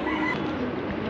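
A Teddy pigeon gives a short, close, low coo lasting about a second, alone without talk.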